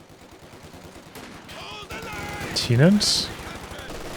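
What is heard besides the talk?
machine gun firing in Company of Heroes 2 video game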